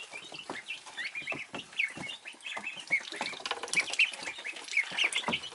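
Five different breeds of baby ducklings peep and chirp constantly in a close, busy chorus of high, overlapping calls, with no one talking.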